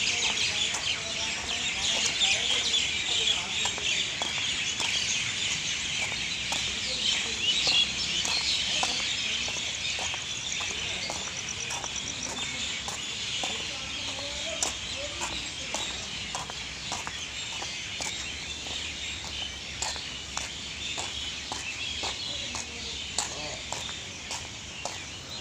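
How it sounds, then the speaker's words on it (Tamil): Many birds calling from a big tree at an estate entrance on an early morning walk around 5:30, with a rooster and clucking fowl among them, steady chirps over footsteps and occasional talk. "எல்லா பறவைகளும் இருந்தாங்க."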